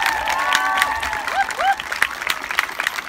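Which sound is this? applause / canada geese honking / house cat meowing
applause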